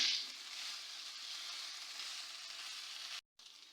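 Chicken samosa filling, seasoned with soy sauce, sizzles softly and steadily in a pan, with a brief drop to silence near the end and no talking.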